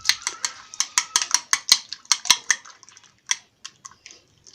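Lay's potato chips are tossed with spices in a bowl, giving quick, crisp clattering rustles in a steady burst of strokes that slows and thins out toward the end, close up with no talking.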